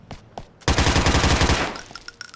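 Automatic weapon fire in GTA IV: a sustained loud, rapid burst of rattling shots after a couple of brief earlier pops, then trailing off into scattered faint clicks and pings.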